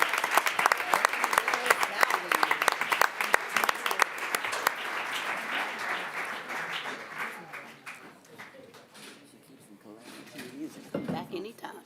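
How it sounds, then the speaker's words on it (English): Audience applause for the Wyandotte High School Jazz Ensemble at a school board meeting: dense, loud clapping that thins and fades over the back half, with some voices and crowd murmur mixed in near the end. "Let's give them another round of applause."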